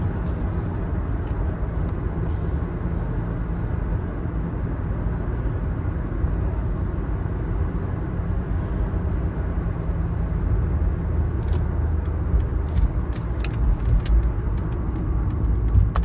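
A 1995 Mercedes-Benz E300 Diesel with 9,763 miles cruises along a road, a steady low engine and road rumble heard from inside the cabin, with a few light clicks and ticks near the end.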